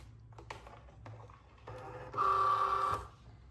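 A Cricut Joy cutting machine takes in a card mat, giving a soft mechanical whir that swells into a louder, steady motorized hum for about a second before stopping, over quiet room noise.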